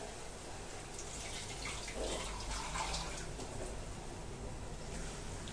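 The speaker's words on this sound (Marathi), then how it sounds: "आपण ह्या मिक्सरच्या भांड्याला जेवढं लागलंय ते पाणी त्याच्यामध्ये घालून घेऊया" Water poured from a mixer jar into a cooking pan, a steady soft splashing trickle running close and continuous with a brief fuller gush in the middle, no voices.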